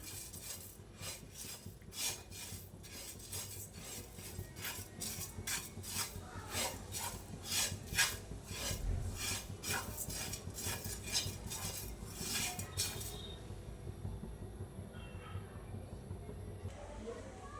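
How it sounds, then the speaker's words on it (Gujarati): Whole spices, cinnamon and black pepper, being dry roasted in a pan for chhas masala: a steady run of metallic scraping and stirring clinks, scratchy and fairly close, with a faint background hum. "હવે બધું સરસ મસાલામાંથી સુવાસ આવે ત્યાં સુધી શેકી લઈશું"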